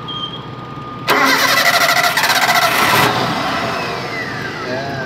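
A 1998 Daihatsu Espass 1.6 engine cranks and catches with a loud starter whir, then runs raised and rough for a couple of seconds before settling into a steady, close idle.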